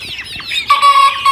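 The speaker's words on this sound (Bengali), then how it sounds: "দেখতে পাচ্ছেন মুরগিগুলো" Native hens cluck and squawk close by on a small poultry farm, a short burst of overlapping calls.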